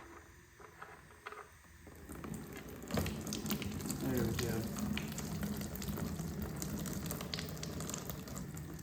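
Water and oil draining from a Chevy 350 V8 engine, a steady close pouring and splashing trickle that starts after a couple of seconds and runs continuously, with someone speaking briefly at the start.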